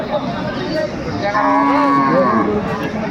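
A cow gives a loud, drawn-out moo at the Aftabganj cattle market, where cows with calves are traded. The moo rises clearly over steady crowd murmur and a busy market din.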